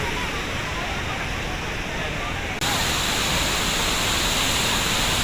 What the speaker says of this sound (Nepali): नर्मदा नदीको वाटरफल, यसलाई भन्दो रहेछ भेडाघाट।